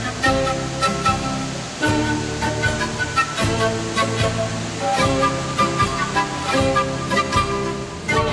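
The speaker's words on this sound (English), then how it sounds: "This is what a rainy day in Aguas Calientes sounds like. I mean, the sound of the water is just overpowering." Heavy rain and a violent mountain stream in Aguas Calientes, Peru, rush as a loud, continuous roar of water that stays dense and steady throughout.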